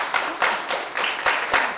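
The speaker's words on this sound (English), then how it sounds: "Did we clap? Clap." An audience at a school graduation claps in appreciation, a steady, fairly close burst of hand claps with no talking over it.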